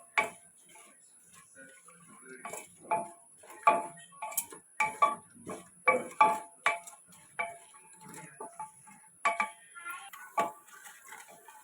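A spoon taps and scrapes against a pot while spices for biryani rice are stirred, making a fairly even run of close, crisp clinks over a faint steady hiss.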